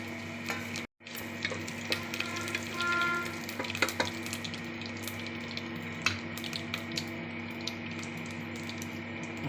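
Cinnamon, cloves, cardamom and bay leaf frying in about 50 grams of ghee for biryani, an even sizzle with scattered crackles and a brief dropout near the start.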